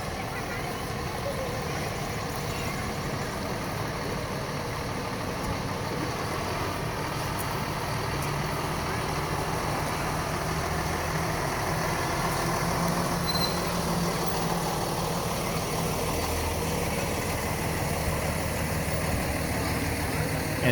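A Swanville Fire Department fire truck rolls slowly past in a summer carnival parade, its engine a steady idling rumble under faint crowd murmur and voices.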